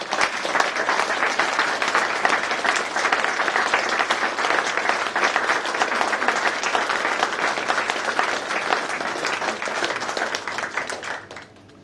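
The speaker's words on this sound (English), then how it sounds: "those very lovely people should give those lovely people a good round of applause anyway" Audience at a Rotary Young Chef Competition heat in Bournemouth gives a long, sustained round of applause, dense and even before tapering off at the end.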